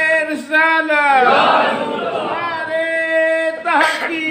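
Massed voices at a religious gathering shout back a slogan in response to a leader's call, a loud sustained crowd chant between the leader's drawn-out calls.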